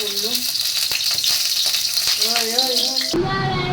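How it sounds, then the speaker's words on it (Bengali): Whole spices such as fennel, nigella, mustard and cumin crackle and sizzle in hot oil for a dal tempering, a bright steady hiss with a voice talking over it before the sound cuts off abruptly. "এবার ডালটা আমি ফোড়ন দেবো দেখো"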